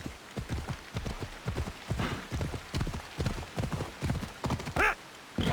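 Horse hooves galloping in Assassin's Creed Odyssey: a quick, even, rhythmic clatter of hoofbeats, fairly close, with a brief horse whinny near the end.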